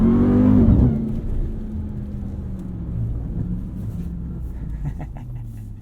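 A 2021 Ram 1500 TRX drives across sand dunes: a loud engine surge opens the clip, then eases into a steady low rumble and drone that fades slightly toward the end.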